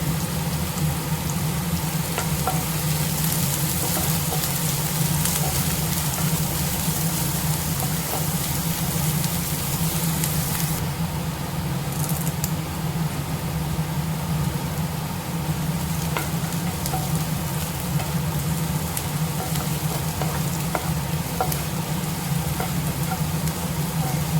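Onion and crushed garlic sauté in a pan for a raw banana fry, giving a loud, dense, unbroken sizzle that runs steadily throughout with faint stirring scrapes.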